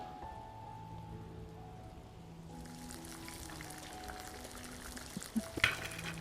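Soya cutlets coated in cornflakes deep fry in oil over a moderate flame. After a quieter opening, a steady sizzling hiss sets in and keeps up, with a couple of faint clinks near the end.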